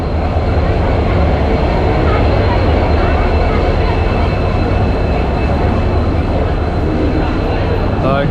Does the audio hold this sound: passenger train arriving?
yes